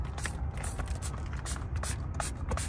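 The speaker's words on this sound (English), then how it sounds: "Now we spray here." Application solution sprayed onto a car's windshield during screen protector installation, a series of short soft hissing spray bursts close by over a steady low background hum.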